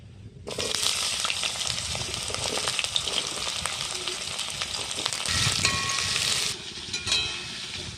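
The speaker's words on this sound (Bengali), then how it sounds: "আলুটা একটু আমি ভাজা ভাজা করে নেব" Chopped potatoes with black cumin hit hot oil in a pan, bursting into a loud, close sizzle that holds steady with stirring crackles, then softens near the end.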